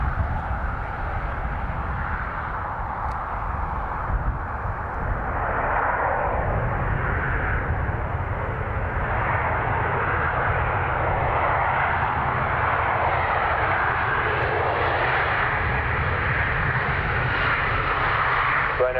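A Ryanair jet airliner arriving from Amsterdam lands, its broad engine roar and rushing air steady and fairly distant for the whole stretch, with no voices.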